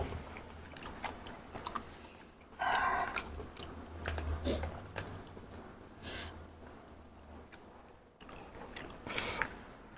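Someone bites and chews shrimp heads from a stir-fried seafood flat-noodle dish in soy sauce, with moist crunching and squishing at close range in irregular bursts and no talking.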